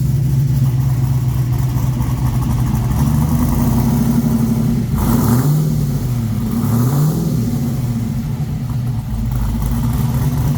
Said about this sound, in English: he said he hasn't started this car since Wednesday, and it just busted right off.